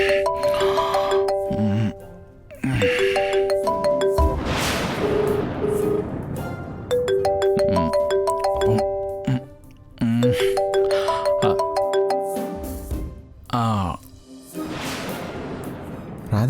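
A phone rings and rings unanswered, a repeating melodic ringtone in loud bursts with short gaps between them, backed by dramatic music and whooshing hits.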